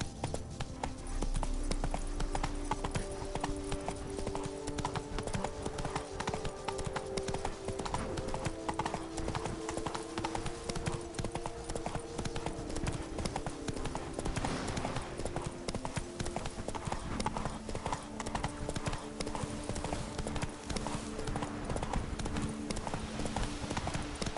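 Steady clip-clop of Roach the horse trotting in The Witcher 3: Blood and Wine, with regular hoof beats continuing throughout under layered game music and ambience.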